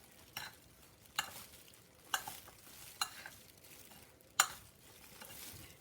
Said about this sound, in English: What I do is I'm going to mix all my ingredients together.